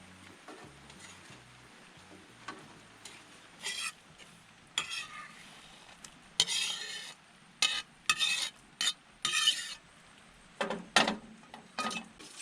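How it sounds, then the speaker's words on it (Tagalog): Radish (labanos) sautéing in hot oil for squid adobo gives a low sizzle broken by bursts of stirring and spoon scrapes against the pan, irregular and close, with no talking. "Saka magigisa tayo ng labanos."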